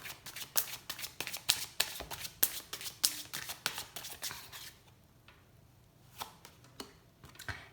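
Tarot cards shuffled in quick, crisp riffling bursts for about five seconds, then a quieter pause broken by a few soft card flicks and taps, close and alone.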